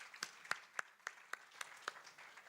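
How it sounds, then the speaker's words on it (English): Faint, sparse clapping at a pension supervisors' conference, each clap distinct and evenly spaced in a quick, steady rhythm, sounding like only a few people applauding at a distance. "I'd like to ask that we give a round of applause to our distinguished speakers"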